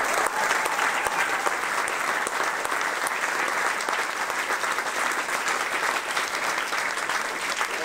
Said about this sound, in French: donc on les applaudit aussi.